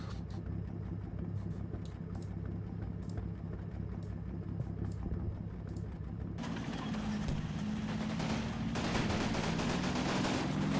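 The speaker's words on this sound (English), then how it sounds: "I can see a mortar shell exploding in the treetops there." Mortar shells burst in woodland treetops during a Combat Mission Battle for Normandy fight, a sharp crack followed by a dense rumbling blast that swells into sustained gunfire and crashing debris over steady background noise.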